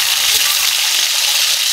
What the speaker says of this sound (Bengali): আর বাকি চিকেনগুলো এইভাবে আমি ভাজলাম।